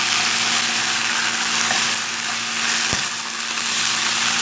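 Meat and onions sauté in a little butter in a pot for kebab halla, giving a steady broadband sizzle throughout with one brief click near the end and no talk.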